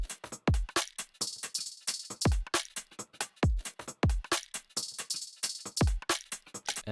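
Electronic drum groups played individually: deep booming kicks with falling pitch, crisp snares and rapid hi-hat ticks in a tight, busy pattern, loud and up close with no talking.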